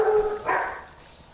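A dog barks once or twice, a short, fairly close bark that fades out quickly, heard alone with no talk.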